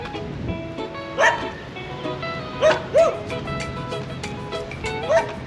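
Dogs bark and yip in short, scattered bursts at an RV resort with an off-leash dog run, several sharp barks standing out over a busy background of chatter and outdoor noise.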